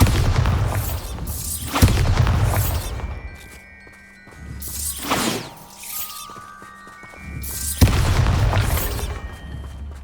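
Bombarda blasting spell in Hogwarts Legacy, several loud booming explosions with shattering debris, spaced a few seconds apart, with quieter magical tones ringing between the blasts.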